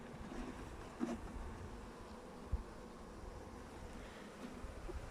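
Honeybees humming around an opened beehive during a brood inspection, a soft continuous drone with faint outdoor wind and a couple of small knocks, no voices.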